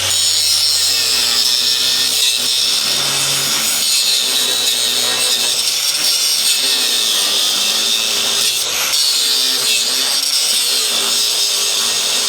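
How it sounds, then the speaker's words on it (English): An angle grinder cuts through the steel suspension of a 1980 Dodge Power Wagon in a driveway, giving a loud, continuous high-pitched whine with shifting pitch as the disc bites the metal, close and with no voices. "Gotta get more of it with a grinder."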